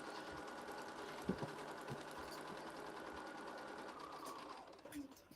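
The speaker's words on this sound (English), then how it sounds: "Back to the sewing machine." A sewing machine stitches fabric in a steady, fairly quiet whirring run that cuts off near the end, with a few light knocks and a voice talking over it.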